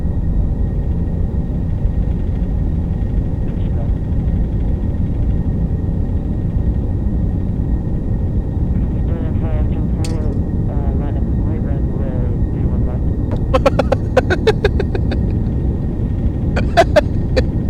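A Boeing 747-400 in a home-built flight simulator runs its engines at takeoff thrust, producing a steady, heavy low rumble and roar throughout. Cockpit voices call out over it in the second half.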